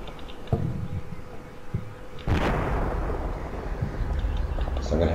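Artillery bombardment in Combat Mission Shock Force, a heavy blast landing midway that leaves a long rumbling roar, preceded by smaller thuds, with someone talking over it.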